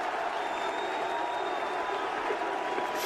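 A wrestling arena crowd roars steadily in a dense, continuous wash of cheering and applause that holds at a constant loudness throughout.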